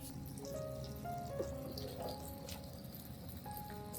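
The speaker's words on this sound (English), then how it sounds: "I'll rinse the entire plant under running water." Tap water runs and splashes softly over an orchid plant as it is rinsed, a faint, continuous trickle with small drips.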